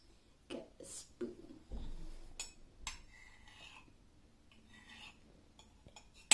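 A metal spoon is fetched and handled in a quiet room while making slime, giving a few scattered clinks and knocks against dishes, with soft rustling between them.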